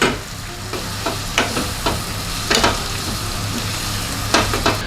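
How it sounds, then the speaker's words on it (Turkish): Three large garlic cloves frying in a pan for a Turkish yogurt bean dish give a steady close sizzle, broken by several sharp spoon-scrape stirring strokes at irregular intervals. "Üç tane iri sarımsağı bunun içine atıp güzel bunları da kavuruyoruz."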